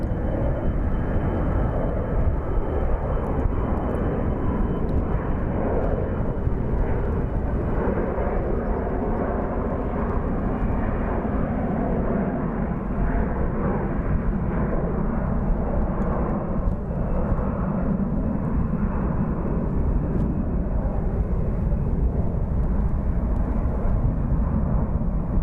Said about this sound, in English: we do have a SkyWest delivery, CRJ departing